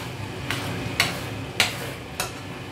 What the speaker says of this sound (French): Après, je vais le touiller.